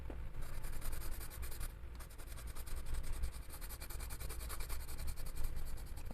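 Colored pencil laying down another layer of shading on a coloring page, a steady close scratchy rubbing with short strokes repeating throughout, alone with no voices.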